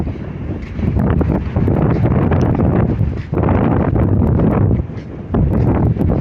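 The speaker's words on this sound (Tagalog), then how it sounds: "Lakas ng hangin." Strong wind on a fine-sand beach in Doha buffets the microphone in a loud, continuous roar, with brief lulls between gusts.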